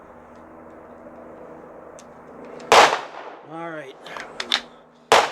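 Two sharp rifle gunshots crack out during cold-weather ammunition testing outdoors in winter, loud and sudden, with a brief spoken word and faint background noise between the reports.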